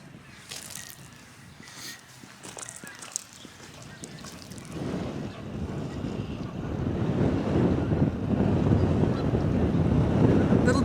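Wind gusting across Lake Erie with waves building around a boat on a cold day, starting as scattered buffeting and swelling into a loud, steady roar of surf and wind noise.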